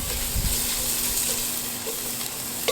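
Shredded fresh ginger and garlic sauté in a pan for a North Indian rajma masala, a steady close sizzle with a brief stir scrape early on and no voices.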